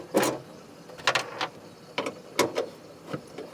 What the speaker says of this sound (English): The first thing for that is to undo the screws.